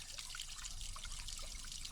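Water trickling and dribbling steadily from a squeezed water container carried while training for a 200-mile ultramarathon outdoors, a continuous close, soft splashing stream with no talk.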